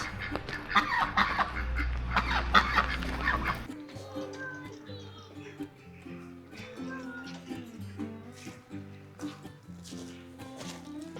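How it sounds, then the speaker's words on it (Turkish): Ducks quacking and squawking in a busy, overlapping chorus in Budva, Montenegro, loud at first then continuing more steadily with music-like tones in the background. "Siz şu ördeklere bakın."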